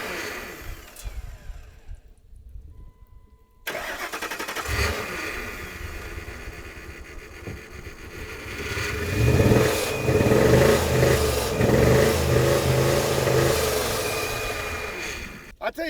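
A Ford F-150 engine cranks and catches after a quiet stretch, then revs up loudly in rising, sustained surges, close by and heard alone.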